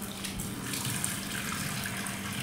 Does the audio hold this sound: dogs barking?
no